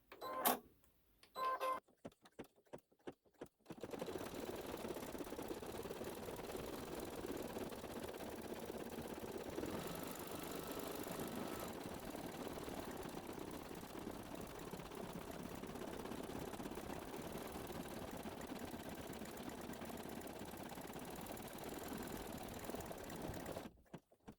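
A home embroidery machine stitches placement and tack-down lines for a haunted house quilt block seating area, a steady mechanical whirring and rapid needle clatter running continuously after a few brief start-up bursts.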